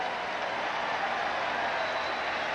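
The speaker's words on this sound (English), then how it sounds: "and you can hear the crowd reaction." A college football stadium crowd at the 1987 Miami versus Arkansas game sends up a broad, distant roar of cheering and clapping in reaction to a play, steady and diffuse over its short span.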